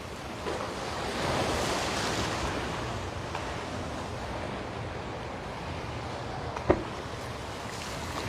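Ocean waves and surf at Waikiki beach on Oahu, Hawaii, a steady roaring wash of breaking water with wind noise on the microphone, continuous and fairly loud, with one brief sharp knock near the end.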